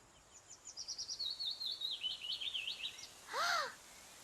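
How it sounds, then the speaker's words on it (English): A cartoon bird calls in a rapid warbling trill of chirps, followed by a brief louder whistled note, over a soft steady hiss of wind in the leaves; no one speaks. "I hear the wind in the leaves. And a bird."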